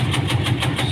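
A cutting machine runs steadily close by, a loud continuous mechanical drone with a regular pulsing rhythm and no talk over it.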